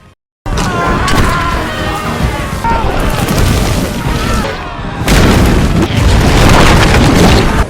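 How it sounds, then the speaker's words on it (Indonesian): Gunpowder explodes during a pirate film scene with the Kraken, a loud booming blast followed by sustained rumbling and crackling, then a second heavy burst. "Jack muncul dan menembak bubuk museum tersebut sehingga meledak dan melukai Kraken."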